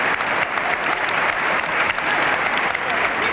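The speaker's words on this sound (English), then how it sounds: "And just listen to that applause." Wrestling crowd at a televised pro wrestling bout applauding, a continuous, even wash of many people clapping throughout, fairly loud and close with no talk above it.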